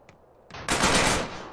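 A short burst of rapid automatic gunfire in GTA San Andreas, preceded by a couple of faint clicks, then a loud, dense rattle of shots lasting about a second.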